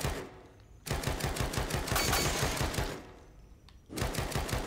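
Rapid automatic gunfire in the Evil Within 2 video game, two long bursts of dense rattling shots separated by a short pause, loud and close with no talk over it.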